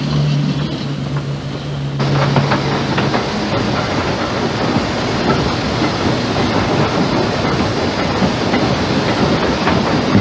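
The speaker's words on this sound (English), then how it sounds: "made up from 2 track inspection vehicles, roughly 40 years old, and a goods trailer, all pulled by a former jetty shunting locomotive" A small desert train of two roughly 40-year-old track inspection vehicles and a goods trailer, pulled by a former jetty shunting locomotive, rumbles steadily along the rails with continuous rattling and clatter, close and loud throughout.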